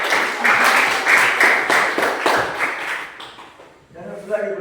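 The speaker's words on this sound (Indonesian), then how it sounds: "kita berikan juga tepuk tangan" A classroom breaks into applause, a dense burst of many hands clapping for about three seconds before it fades out, with voices briefly audible afterward.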